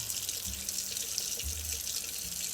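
Tap water runs steadily into a sink, wetting a makeup brush stiff with dried makeup; a continuous close hiss with soft lower splashing as the brush moves under the stream.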